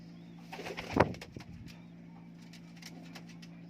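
High-flying Kamagar pigeons in a loft, soft cooing and a brief flutter close by, with one louder burst early on and quiet murmuring calls after; faint background hum, no talking.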